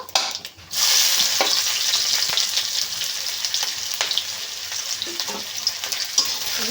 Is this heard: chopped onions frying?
yes